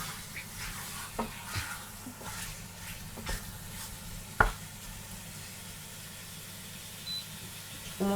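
Beef and carrots cook in a pan over raised heat, a soft steady sizzle with occasional scrapes and clinks from stirring, faint and close, no talking.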